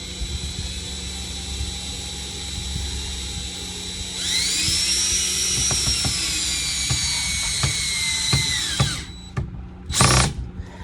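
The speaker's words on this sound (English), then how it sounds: "sometimes I have a little trouble making a screw go in straight, but here goes" Power drill driving a screw into wood without a pilot hole, a whining motor that rises and holds for several seconds, then cuts off, followed by a short final burst.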